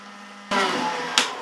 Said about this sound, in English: we're going to take the heat gun, heat it up